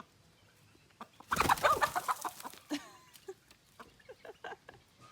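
A chicken clucks close by in a series of short, agitated calls, loudest in one dense burst and then trailing off into scattered softer clucks, with no talk over it.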